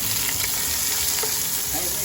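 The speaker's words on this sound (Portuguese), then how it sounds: "Um pouco de óleo numa panela e põe eles para ir fritando." Bell peppers fry in a little oil in a pan, sending up a loud, dense, continuous sizzle with occasional pops and crackles, close by and steady throughout.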